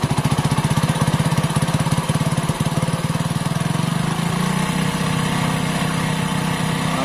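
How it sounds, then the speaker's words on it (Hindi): A motorcycle engine idles with a close, loud, steady putter, and its firing pulses quicken and blend into a smoother, higher hum as the RPM screw is tightened. "अब देखिए आप, इंजन आवाज करना शुरू कर देगा और बाइक के आरपीएम बढ़ जाएंगे।"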